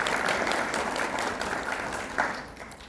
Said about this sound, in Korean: 여러분 큰 박수로 김재인 교수님을 맞이해 주시기 바랍니다